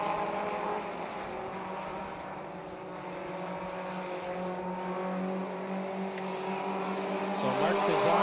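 360 ministock race cars lapping a track, a continuous roaring engine drone from several cars with rising and falling revs, mixed under a commentator's voice.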